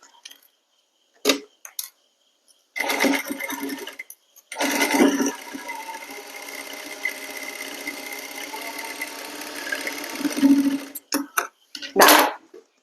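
A sewing machine stitches fabric in steady runs, a short burst, then a long continuous whirring stretch of several seconds, broken by brief clicks and handling knocks before and after.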